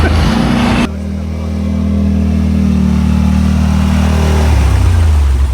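A Yamaha RMAX side-by-side with 35-inch BKT wide tires and 4-inch portals revs hard in a clay mud hole, its loud engine droning steadily, rising and falling in pitch, with no break in the noise.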